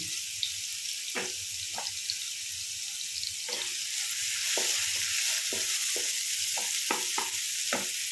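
Mushrooms with a little ground pepper fry in olive oil in a pan, giving a steady broadband sizzle broken by intermittent scraping stirs and clicks, close and fairly loud with no voices.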